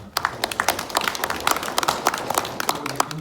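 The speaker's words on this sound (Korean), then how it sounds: "우리 패널 위원분들을 먼저 소개시켜 드릴 테니까 큰 박수로 맞으시기 바랍니다." Audience at a forum in Jeju applauding as panel members are introduced, a dense burst of many hands clapping quickly, moderately close and steady, with no talk in between.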